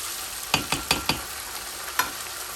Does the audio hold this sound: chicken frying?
yes